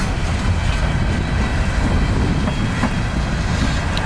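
A freight juice train passes close by with a loud, continuous rumble and rolling roar of wheels on rails, steady throughout with no break.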